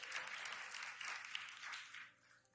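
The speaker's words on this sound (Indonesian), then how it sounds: "Kasih tepuk tangan yang paling meriah dulu" Applause from a teen church congregation during a sermon, a faint, dense clapping that swells in waves and then fades near the end.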